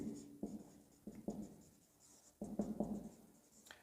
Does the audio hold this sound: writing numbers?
yes